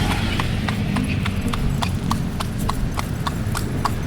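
A white horse pulls a kalesa at Luneta, its hooves clip-clopping in a steady, even rhythm of sharp clacks on pavement, close and clear above a low rumbling road noise.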